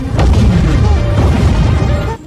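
A heavy explosion rumbles through a superhero film scene, a loud deep boom with crackling debris that fills the moment before fading at the end.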